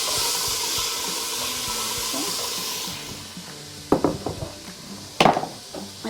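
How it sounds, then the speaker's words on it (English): Two pints of canned black beans tipped into hot oil, a steady bright sizzle over the first three seconds that eases off, then a few sharp clatters and scrapes as the pan is stirred. "So I've got 2 pints of canned black beans. Add that to the oil. Yeah, listen to that."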